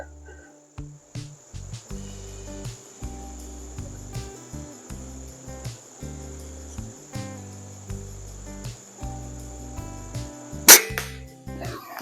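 A Baikal MP60 air rifle fires an 8.4 grain pellet outdoors at about 25 yards, with one sharp, brief crack near the end over steady rhythmic insect chirping in the background.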